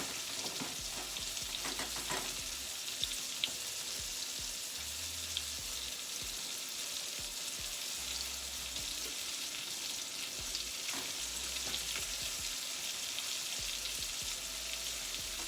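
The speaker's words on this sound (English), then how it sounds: "All I got to do is just pop it straight in the" Steady hissing sizzle of frozen cod frying in a hot pan, with faint crackles and pops throughout, close up and without speech.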